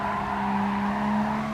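A car slides through a corner in a racing video game, its tyres giving one loud, steady screech with a strong sustained tone over the engine's drone, heard alone without talk.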